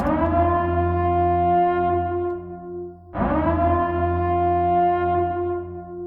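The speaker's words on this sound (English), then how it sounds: "the siren as well. So if you can hear, like, say like this." A loud, droning electronic emergency broadcast siren tone in the style of The Purge, with heavy distortion, sounds twice, each blast sustained and slowly fading before it cuts and restarts.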